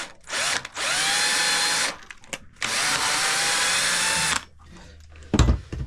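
A power drill drives bolts into a table aboard a sailboat, two long loud whirring runs near the mic separated by brief pauses, followed by a short thump.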